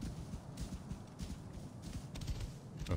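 A horse's hooves clip-clop in an even walking rhythm in the Assassin's Creed Origins video game, quiet and close, with a few heavier thuds near the end and no talking.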